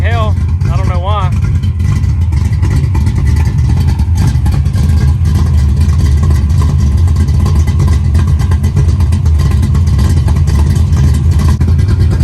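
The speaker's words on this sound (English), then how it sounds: "Mufflers is rattling like hell." A Ford Foxbody Mustang engine revs with a loud, continuous low rumble and a rattling muffler, running steadily throughout with a brief voice near the start.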